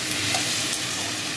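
Chicken pieces frying and being stirred in a pan for homemade chow mein, a close, continuous sizzle with scraping stirs throughout.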